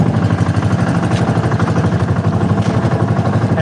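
A fishing boat's engine runs steadily, a loud, close, even mid-pitched drone with a faint rhythmic clatter and no talking.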